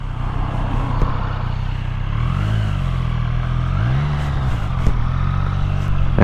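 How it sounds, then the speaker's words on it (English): A Triumph Street Triple 765 RS Moto2 Edition motorcycle on its first ride, with a steady, loud engine drone and broad wind rush throughout, rising and falling gently in pitch as the rider works the throttle. "First ride out on the Triumph Street Triple 765 RS"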